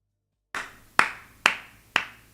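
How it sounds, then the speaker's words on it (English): Four single hand claps, sharp and evenly spaced about half a second apart in a quiet indoor room, each with a short ringing decay and no voices around them. "I'm just clapping."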